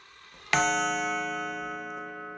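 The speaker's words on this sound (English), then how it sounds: "Okay, strikes once on the half hour." A Seth Thomas Beehive mantel clock strikes a single time on the half hour: one sharp metallic chime that rings out close and clear, then fades slowly over the next two seconds.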